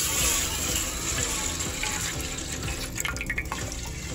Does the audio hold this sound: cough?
no